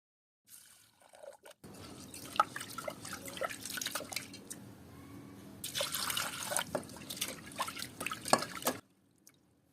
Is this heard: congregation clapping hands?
no